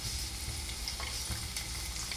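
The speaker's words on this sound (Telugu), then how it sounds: "మనం ఒక 2 నిమిషాలు అయితే కొంచెము ఫ్రై అవ్వనిద్దాం" Onion and garlic frying in a little oil, a dense, continuous sizzle with crackling spatters, loud and close, no voices.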